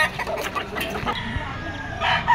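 A bull stag rooster crows and clucks close by at a busy outdoor pet market in Malabon, with other fowl and market noise in the background.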